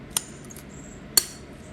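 A spoon clinks twice against a bowl while taco salsa is mixed, two sharp, bright taps about a second apart over a quiet background.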